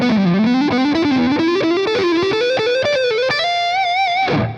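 Distorted electric guitar runs a fast legato phrase of smooth hammer-ons and pull-offs, climbing steadily in pitch, loud and alone, ending on a sustained vibrato note that cuts off abruptly.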